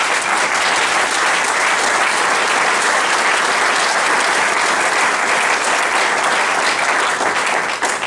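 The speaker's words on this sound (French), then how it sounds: "l'assistance acclame leur présence" An audience at a book launch event in Kolwezi bursts into loud, sustained applause, dense clapping filling the whole stretch evenly without a break.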